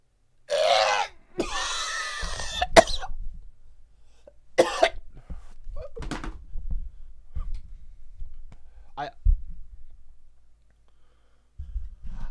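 A man coughs in several harsh, separate bursts, with rough throat-clearing grunts between them and quieter gaps of near silence, close and fairly loud.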